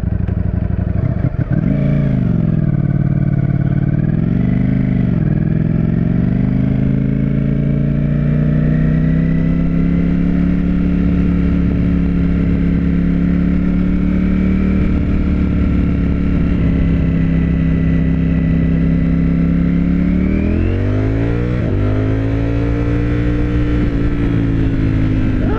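2021 Ducati Streetfighter V4S motorcycle riding on wet roads, a loud continuous engine drone with revving rises and falls near the start and again near the end, close and steady.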